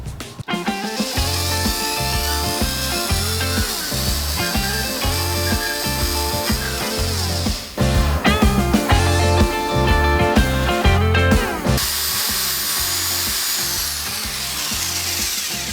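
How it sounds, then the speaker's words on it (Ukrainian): A Grand cordless drill driver drills with a 1 mm bit at first speed, a close, loud whine in repeated bursts with shifting pitch, running almost continuously with brief pauses and no talk over it. "на першій швидкості дуже комфортно сверлити"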